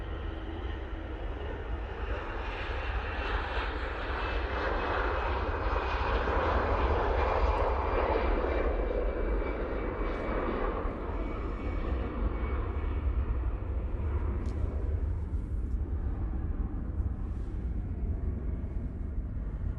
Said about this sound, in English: Off to Geneva we go with this EasyJet